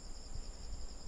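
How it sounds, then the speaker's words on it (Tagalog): Crickets chirp at a mountain campsite in Tanay, Rizal, a faint, steady high trill over a low background hush. "Dito ang maririnig mo yung mga kuliglig,"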